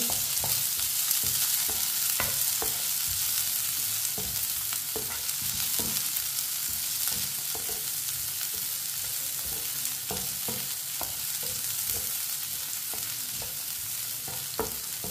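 Finely chopped onion being stirred and fried for a bitter gourd (karela) curry: a steady close sizzle punctuated by regular spoon taps and scrapes throughout.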